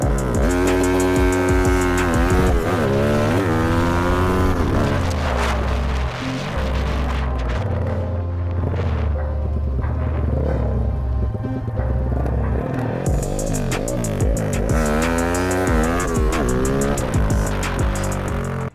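A Yamaha Y15 motorcycle exhaust revs loudly and continuously, the engine note climbing and falling in repeated sweeps over a deep, throbbing rumble, with no talk.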